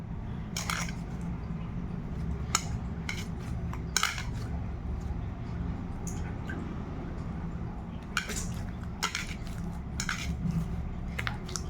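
A spoon stirs jowar flour and water into roti dough in a bowl, with irregular close clinks and scrapes against the bowl over a low, steady background hum.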